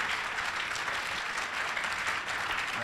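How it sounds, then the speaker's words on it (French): Sustained, dense applause from an audience at a Burkina Faso National Gendarmerie event, honoring a chief warrant officer. The clapping stays steady and even throughout, with no break. "je demande 30 secondes d'applaudissements nourris"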